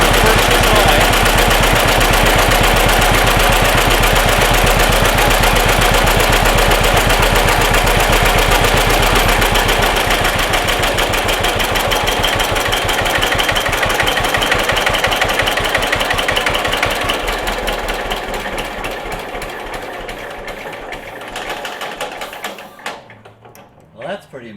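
A 1940 John Deere H tractor engine runs loud and close with a steady rapid putt-putt idle, then settles and fades before cutting off near the end.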